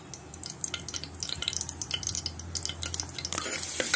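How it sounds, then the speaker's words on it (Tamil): Whole cloves and cinnamon sticks sizzle and crackle in hot oil in a pan, with a spoon stirring and scraping through them; the frying hiss stays steady and close, growing slightly louder toward the end. "எண்ணெய் நல்லா காஞ்சதும் இதோட லவங்கம், பட்டை அதெல்லாம் சேர்த்துக்கிறோம். நல்லா இந்த மாதிரி மிக்ஸ் பண்ணி விட்டுக்கோங்க."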